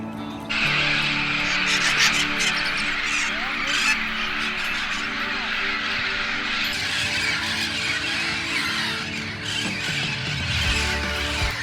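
A dense chorus of raucous parrot calls and squawks fills the air continuously, many voices overlapping from a large wild flock in a Texas city park.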